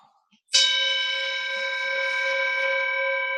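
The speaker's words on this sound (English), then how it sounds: "the nature of this bell is it will fade. The sound will fade away." A meditation bell struck once during a vipassana workshop, ringing with a clear sustained tone and rich overtones that slowly fade, heard alone without speech.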